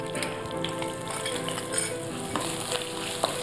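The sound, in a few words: ginger frying in oil for masala idly tempering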